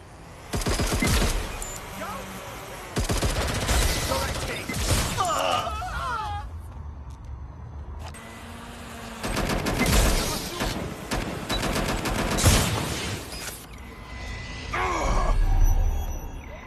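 Gunfire in the Watch Dogs Legion video game: loud bursts of weapon fire in several dense stretches, mixed with game effects and groaning voices.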